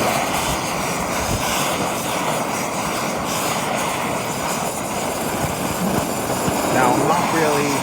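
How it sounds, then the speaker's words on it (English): A second MAPP gas torch heats gold refining powder from gold-filled watch bands with a loud, steady roaring hiss that continues throughout, with occasional crackle and a brief high whistle near the end. "Second torch to kind of speed it up."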